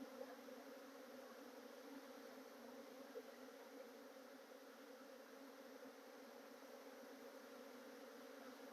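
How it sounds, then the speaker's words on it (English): Honeybees marching into a hive during a late-season swarm, a steady, dense buzzing drone from many bees close by, continuous and even throughout with no talking. "There's quite a bit of bees in here."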